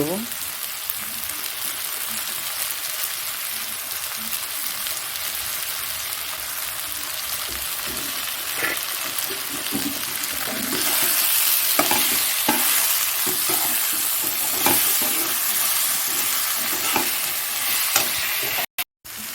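Spices with ginger and garlic paste frying for a crab curry, a dense continuous sizzle like steady rain that grows louder partway through, with scattered stirring scrapes, close up, no speech.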